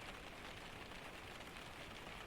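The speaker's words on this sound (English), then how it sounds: "The rain outside is everything now." Steady, soft rain falls outside, an even hiss of drops with no pauses and no talking.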